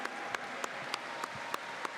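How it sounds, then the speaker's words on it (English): Steady audience applause for honorees at a Latino Heritage Month awards ceremony, with a few sharper claps standing out at regular intervals, fairly quiet and distant, with no talking. "May we have another round of applause for all of our honorees."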